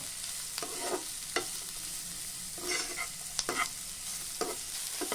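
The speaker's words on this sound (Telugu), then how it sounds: "ఈ ఆనియన్స్ ముక్కలను దోరగా వేయించుకోవాలి" Chopped onions frying in a pan with cumin seeds, a steady soft sizzle broken by repeated scraping strokes of a spatula stirring them, close by and with no talk.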